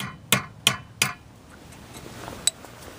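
Three sharp metallic hammer blows in quick succession strike a brake caliper pin on a Mitsubishi Evo X during front pad replacement, then a fainter fourth tap after a pause.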